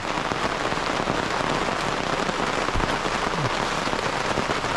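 Sudden rain pours at Ecotree Campsite, a dense, even hiss of drops on the surface with no voices.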